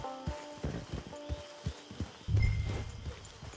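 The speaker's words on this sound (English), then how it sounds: "Get your horse." Horse hooves clip-clopping in a PS4 video game, a run of distinct hoof beats at a walking rhythm, fairly close, with a brief snort or whinny-like sound and heavier rumble near the end.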